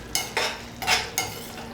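Mutton liver in green masala fries in a pan while being stirred, three or four quick scraping stirs over a soft continuous sizzle, close and moderately loud, with no speech.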